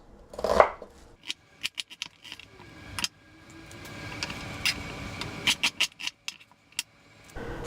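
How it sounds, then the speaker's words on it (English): A knife slices onion quarters on a cutting board, with a string of sharp, close taps and clicks of the blade striking the wood, quick and uneven, alone and without talk. "So I'm going to then cut these onion quarters into"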